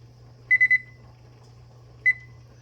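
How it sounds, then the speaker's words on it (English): A kitchen timer set while cooking Bolognese sauce gives a quick burst of three sharp electronic beeps, then one more beep a moment later, clear and close over a faint low hum. "Time to start the timer."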